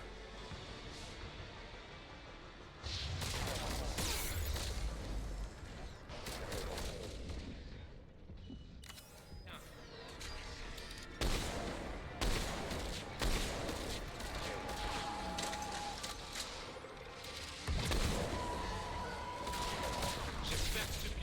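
Gel round gunfire in Mass Effect 3, dense bursts of shots and impacts in a busy combat scene, loud and sustained across most of the stretch, with French dialogue now and then.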